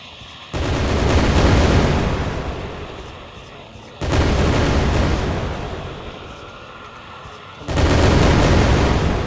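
A frag grenade going off in a video game: three heavy, booming blasts roughly four seconds apart, each a loud broadband burst that rolls off slowly before the next.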